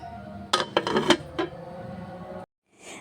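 Metal lid set onto a cooking pot of sardines on a home stove, a few close clanks and rattles in quick succession, then quieter handling and a short silence.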